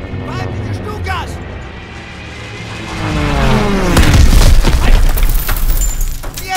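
A Stuka dive bomber attack in the WWII video game Call of Duty: WWII, during Operation Cobra, bursts into a deep, booming explosion midway through, rumbling over a noisy battlefield backdrop.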